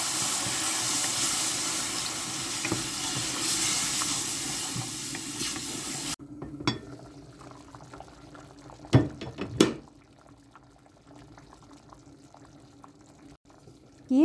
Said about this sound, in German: Nun schütte ich noch Wasser drüber.